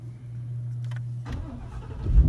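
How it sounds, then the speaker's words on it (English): A 2015 Ford Mustang parked in a garage starts up: a steady low hum comes first, then the engine cranks and catches partway through, rising to a louder rumble at the end. "let me just turn on the car"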